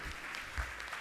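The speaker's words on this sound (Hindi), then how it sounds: "आप जोरदार ताली बजाकर उनका सम्मान करें" Clapping from an audience at a Jain religious gathering honouring local devotees, a brief burst of applause spread across the whole moment, moderately distant and steady.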